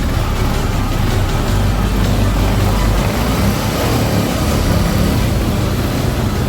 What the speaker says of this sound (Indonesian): Motor tetap hidup.